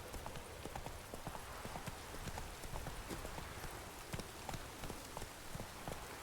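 Roach, a horse in The Witcher 3, gallops through rain with steady clip-clop hoofbeats close by, over a constant hiss of falling rain, with faint talk at moments.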